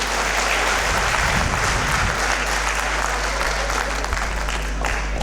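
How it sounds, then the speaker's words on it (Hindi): A hall full of people at a Sanskrit film festival opening keeps clapping in a dense, even roar of applause, with a low hum and a brief rumble near the start. "तालियों की ऊर्जा से ये हॉल ऊर्जावान बना रहे।"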